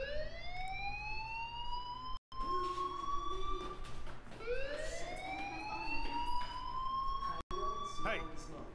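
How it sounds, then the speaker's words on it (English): Fire alarm ringing in the Life Is Strange video game, a rising wailing siren tone that sweeps up repeatedly, fairly loud and continuous with brief cut-outs, with people talking over it. "do you hear that fire alarm?"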